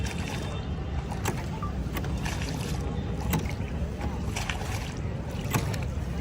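Boat ride on Nainital Lake with a constant wash of water and wind noise around the craft, steady and close, with occasional faint knocks and a hint of voices in the background.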